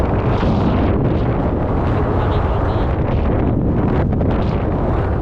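Strong wind buffets the microphone on a shallow shore where a jet ski sits beached, making a steady loud roar throughout with no clear voices.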